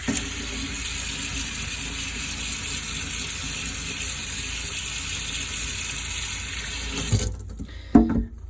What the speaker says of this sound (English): Okay, then I'm gonna rinse it.